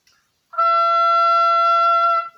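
A single high E natural on an oboe sounds after a short silence, held steady and clear for almost two seconds before stopping.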